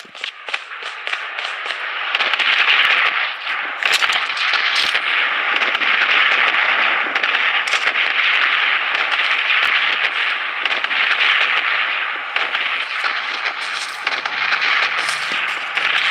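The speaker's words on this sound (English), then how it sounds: "The safe zone has been redefined. Missile bombardment on its way." Missile bombardment in the battle royale shooter Blood Strike, a dense, continuous barrage of crackling, popping blasts and gunfire-like bursts that holds steady for the whole stretch, with no voices over it.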